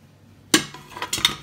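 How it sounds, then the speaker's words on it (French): A sudden clatter of oxtail dropping into a metal pot, followed by a few softer clinks and scrapes of a utensil against the pan. "On va mettre notre queue de bœuf dans le casserole."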